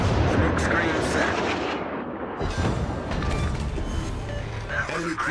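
Naval artillery salvos in the World of Warships video game, heavy booming gun blasts and rumbling impacts in a busy battle mix, with a voice giving commands over the action.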